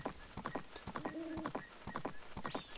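Rhythmic clip-clop of the horse Epona's hooves in the video game The Legend of Zelda: Majora's Mask, steady trotting beats running throughout along with game sound effects, no talking.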